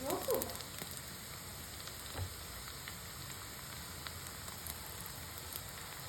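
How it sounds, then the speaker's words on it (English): Chopped onions sauté in oil in a pan, giving a soft, continuous sizzle with faint crackles throughout and a few small clinks near the start. "Take 1/2 cup of oil. 1/4 cup of chopped onions. Sauté until it is translucent."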